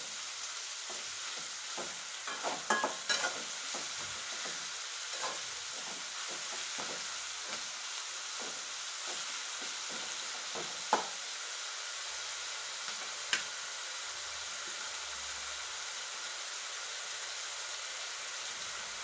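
Onions and tomatoes with salt fry in a pan, a soft constant sizzle broken by repeated scraping stirs of a spoon, fairly quiet and close, with no one talking.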